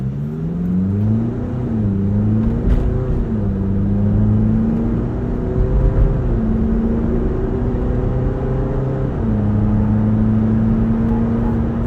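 MG Gloster 4x4 SUV accelerating hard to nearly 100 km/h, a steady loud engine drone whose pitch climbs and drops with each gear change, heard from inside the cabin with no talk.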